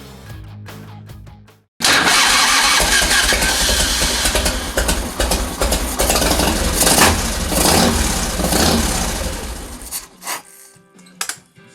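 Motorcycle engine with a faulty CV carburetor, running rough and loud from close by with uneven revving surges and sputtering for about eight seconds, then cutting out to quieter sputters.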